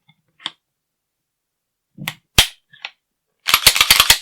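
Sharp metallic clicks and clacks of a CZ P-09 pistol being handled during reassembly, isolated snaps spaced apart, then a rapid cluster of clacks as the slide is worked back and released.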